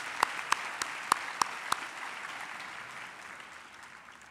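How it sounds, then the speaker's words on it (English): A graduation ceremony audience applauds, a handful of sharp separate claps at first over a soft bed of clapping that fades gradually. "I think we can give those a hand of applause"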